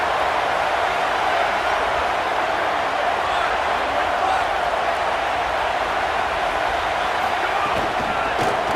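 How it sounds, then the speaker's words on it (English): A dense, steady crowd roar fills a football stadium as the home fans give the visiting team a deafening welcome, constant and loud throughout with no distinct breaks. "This crowd bringing an ear-splitting welcome to their visitors."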